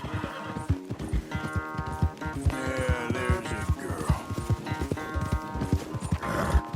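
Horses gallop in a race in Red Dead Redemption 2 with rapid, rhythmic hoofbeats and repeated loud neighs and whinnies up close, while a voice speaks briefly over them.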